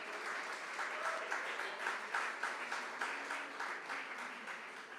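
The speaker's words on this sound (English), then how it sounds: "Let us give a round of applause for all the award recipients." An audience applauds award recipients at a primary school graduation ceremony. The clapping is sustained and even, fairly soft, and carries on without a break.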